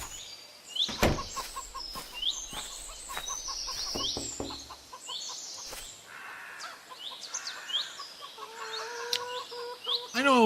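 Chickens on a farm in a video game cluck and squawk in busy overlapping bursts, with sharp clicks and knocks mixed in and an occasional crow-like call, fairly loud and without talk.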